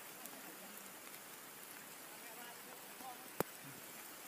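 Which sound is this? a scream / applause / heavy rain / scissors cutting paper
heavy rain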